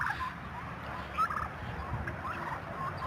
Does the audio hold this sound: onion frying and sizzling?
no